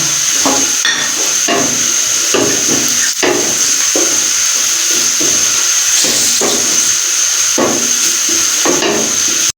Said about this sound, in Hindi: अभी हम इसमें ज़ीरा ऐड करेंगे। इसको आधे मिनट तक हम बीच में भुनाई करेंगे ज़ीरे को भी